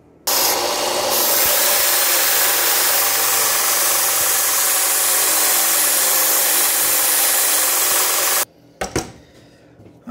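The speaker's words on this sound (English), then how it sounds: "we're going to use a drill, a Harbor Freight Perfection the combination sander" A Harbor Freight Perfection combination sander and drill runs loud and steady for about eight seconds while building a motorcycle foot clutch, then cuts off, leaving a few short knocks and handling noises.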